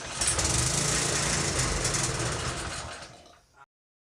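The small engine of a trash-picked pressure washer runs on its own fuel, a steady, loud, rough drone with broad noise that fades over the last half second and then cuts off abruptly, leaving silence.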